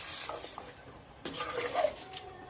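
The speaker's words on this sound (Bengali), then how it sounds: "দেওয়ার পরে আবার একটু নেড়ে দিব" Chicken pieces are stirred through spices in a pot, giving a faint sizzle with a few soft scrapes and clinks of a spoon, quiet and close with no talking.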